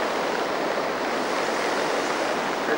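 Flooded river rushing after heavy rain near Cocentaina and Beniarrés, a loud, steady broadband roar of fast water with no voices.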